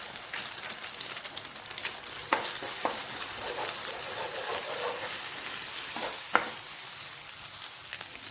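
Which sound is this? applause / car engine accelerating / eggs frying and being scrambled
eggs frying and being scrambled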